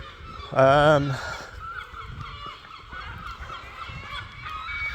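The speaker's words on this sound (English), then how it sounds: "I'm just going to get out of the noise of all these seagulls first." A single loud, harsh gull squawk rings out close by near the start, followed by a low outdoor background rumble.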